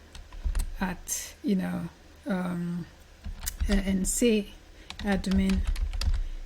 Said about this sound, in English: I've had to type the email address in there